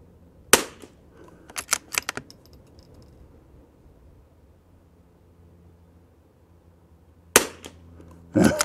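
A Savage MKII Christensen Ranger22 rimfire rifle fires several sharp, close cracks, one single shot, a quick cluster of three, then a lone shot, with quiet outdoor ambience between.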